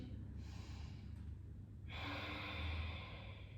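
Slow, close breathing during a piriformis stretch, one audible breath followed by a longer, louder exhale over a low room hum.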